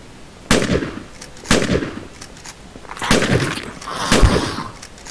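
Gunfire from a zombie shooting in the video game Fort Zombie: four loud, sharp shots about a second apart, each cracking out and trailing briefly, with no talking.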